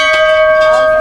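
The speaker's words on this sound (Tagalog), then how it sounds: "Yan, ito yung kampana nila." A resort bell rings loud and close, its steady metallic tone sustaining without break under repeated soft strikes, with no voices over it.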